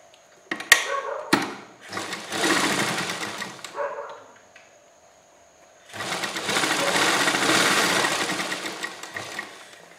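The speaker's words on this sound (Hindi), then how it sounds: "और यहाँ पर हम सिलाई लगा लेंगे।" An electric sewing machine stitches a short jacket's fabric and lining in two long, close whirring runs, separated by a quiet pause and preceded by sharp clicks and brief starts.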